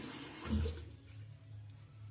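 Tap water runs into a sink while a face is rinsed clean after a Neutrogena Hydro Boost peeling product, a soft steady stream with a brief louder splash near the start, heard alone without talk.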